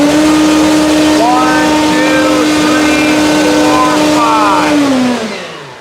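E-flite Carbon-Z T-28 electric RC plane motor with a 3-blade prop held at full throttle, a loud steady high whine for about five seconds before spinning down at the end.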